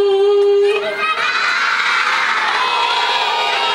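A crowd of children shouts a call together at a Maulid Nabi Muhammad celebration, starting with a clear sustained tone and then swelling into a loud, prolonged group yell that holds to the end.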